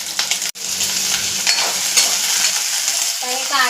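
Ginger, garlic and onion fry in a spoonful of hot oil in a wok, giving a loud, steady sizzle with a few sharp clinks of a utensil against the metal pan.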